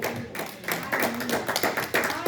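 A church congregation claps during a Spanish-language sermon, a brief flurry of hands clapping irregularly and close by, mixed with some voices.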